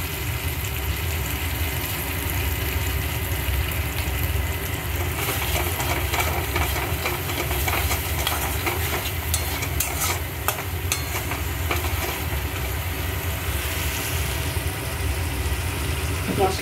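Spice paste frying in oil for a Bengali stuffed pointed gourd (potoler dorma) dish, a steady dense sizzle with occasional stirring scrapes, continuous and close throughout.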